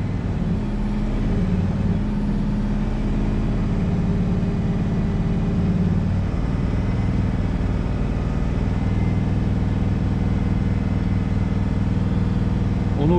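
A tractor-trailer truck engine labours up a snowy hill, a loud, close, continuous drone that holds steady strain for the whole stretch with no talk.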